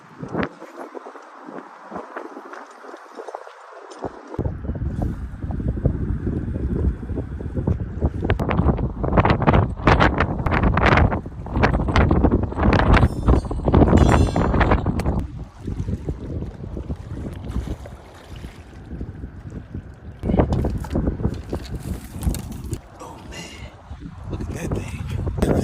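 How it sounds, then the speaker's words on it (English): Strong wind roars and buffets against the microphone on a fishing boat on a windy day. The low rumble comes in surging gusts, with voices talking faintly underneath. "high winds."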